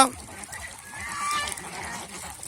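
Geese call with a few nasal honks, moderately close, over a soft background hum.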